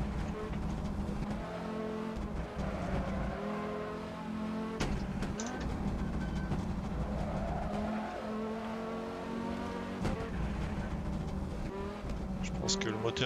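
A high-revving, tuned Ford Focus Mk2 engine in Assetto Corsa roars steadily with tire squeals, continuous and loud, with a voice speaking over it.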